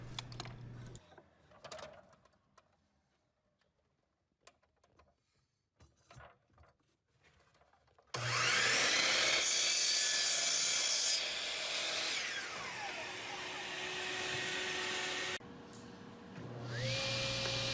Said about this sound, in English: now Maya is cutting out a piece for the handle for the top of the lid for Sai.